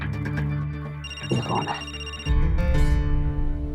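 A telephone rings loudly and continuously indoors with a steady electronic tone, while someone speaks briefly over it.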